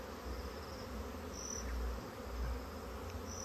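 A swarm of honeybees hums in a steady, soft drone while colonizing a hive outdoors in the evening, an even, continuous buzz with no voices.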